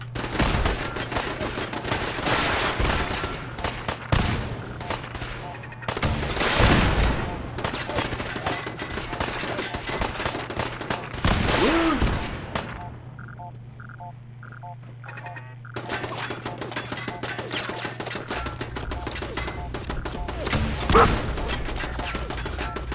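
Gunfire in a Fallout 4 firefight: rapid bursts of shots and fusillades come in clusters over a sustained battle din, broken by a brief quieter stretch with faint beeping tones before the shooting resumes.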